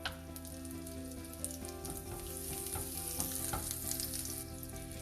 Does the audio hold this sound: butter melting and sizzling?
yes